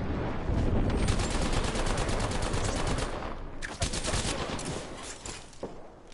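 Dense automatic and rapid gunfire in the Apex Legends video game goes on continuously, loud and close, with volleys overlapping throughout and a brief dip midway before the firing resumes.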